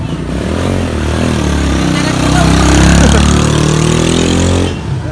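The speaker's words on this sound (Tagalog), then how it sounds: "tinest ride yung motor niya" Motorcycle engine on a test ride, its modified exhaust pipe giving a steady low throaty drone that swells as the bike passes close, then drops away abruptly near the end.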